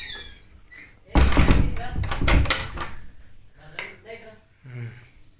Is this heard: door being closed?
yes